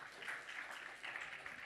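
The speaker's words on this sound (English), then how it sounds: "let's have a huge round of applause for Ariel here" An audience at the 7th edition launch of the Ariel Iconic event gives a brief burst of applause, heard as faint, distant, even clapping with no voices over it.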